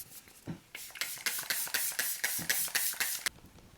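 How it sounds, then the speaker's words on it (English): A series of quick, breathy spritzes from a hydrating makeup setting spray bottle, around a dozen bursts in an uneven rhythm, close and crisp. "I'm going to spray a hydrating setting spray to mesh all those powders together"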